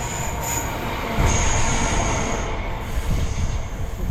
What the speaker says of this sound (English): What do you want, another train?